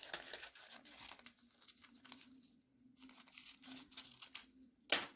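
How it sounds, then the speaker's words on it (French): Quiet snipping and crinkling of paper, a few short cuts with a sharper rustle near the end, soft and close. "si on coupe ce papier"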